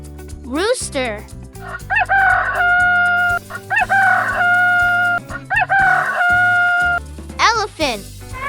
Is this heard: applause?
no